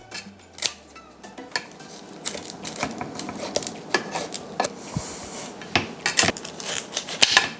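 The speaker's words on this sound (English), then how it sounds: "I'd probably cut the excess tail." A knife or scissors cuts the excess tail off a fish resting on a banana leaf, making irregular close clicks, scrapes and snips with short pauses, and no speech.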